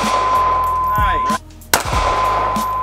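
Two sharp, close reports from a Ruger LC9s striker-fired 9mm pistol, about three-quarters of a second apart, with a steady tone and a low background hum around them.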